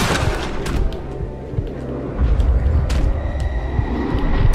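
A Red Dead Redemption 2 shootout at Beecher's Hope Ranch, loud and dense: repeated gunshots crack over a steady low rumble and booming, near and continuous for several seconds.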